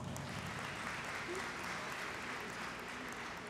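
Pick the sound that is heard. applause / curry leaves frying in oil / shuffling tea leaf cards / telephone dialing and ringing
applause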